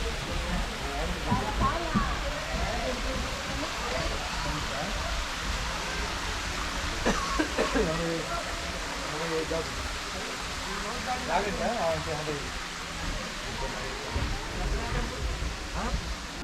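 Water flows steadily at Srisailam, a continuous rushing wash that runs unbroken under occasional faint voices.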